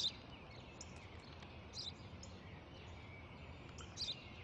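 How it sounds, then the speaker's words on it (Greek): Faint, high chirps from a house sparrow come in a few scattered bursts over a quiet, low background hum, somewhat distant. "Ένα σπουργίτη."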